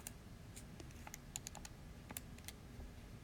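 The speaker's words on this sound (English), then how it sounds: "in the calculator, I'm going to type in 20 squared minus 14 squared." Soft, scattered key clicks as numbers are entered on a calculator, close and quiet, in an irregular rhythm with no talking.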